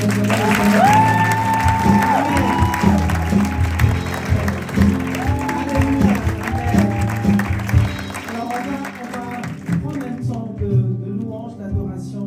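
A church congregation applauds to acclaim God, sustained clapping mixed with scattered cheers and some talk, while sustained music tones run beneath and fade toward the end.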